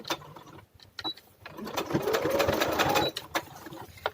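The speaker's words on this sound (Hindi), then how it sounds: "अब हम यहाँ से स्टिच करेंगे और पूरा कॉर्नर कॉर्नर पे स्टिच कर लेंगे।" A sewing machine stitches along the corner of a garment panel with buckram, giving a fast mechanical whirr that runs steadily for a little over a second between short bursts and clicks, with quiet surroundings.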